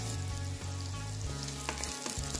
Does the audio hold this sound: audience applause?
no